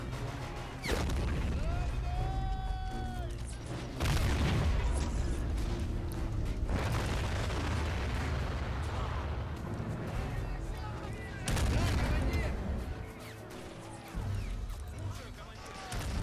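Artillery volley in the WWII strategy game Men of War: Assault Squad, Soviet Union at Smolensk: heavy booming blasts and crashing impacts in bursts, loud and layered with battle noise, with someone talking over it.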